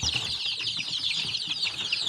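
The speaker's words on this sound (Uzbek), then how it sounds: "Jo'jalarimiz mana." Chicks and chickens in a home-built coop, a busy chorus of high peeping and soft clucks overlapping continuously, close by with some rustling and wing movement beneath.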